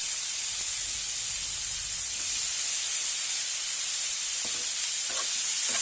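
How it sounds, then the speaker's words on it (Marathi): Cut brinjal pieces hit a hot pan for a chutney and sizzle with a steady, bright hiss that holds at an even level throughout, up close with no talking. "आता आपण यामध्ये हे वांगे कट केलेले घालूया।"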